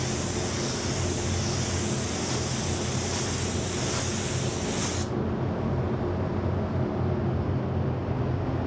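A spray gun lays down a second coat of candy copper paint over a silver sealer. The hiss is loud, steady and continuous, and its bright top end drops away about midway while the spray keeps going.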